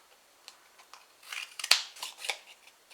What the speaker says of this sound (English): you just use your normal scissors and fringe right along, like so